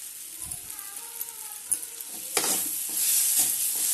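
Okra (bhindi) fries in an open pan with a soft crackle and occasional spoon taps at first, then the sizzle surges louder and stays dense and continuous, close by.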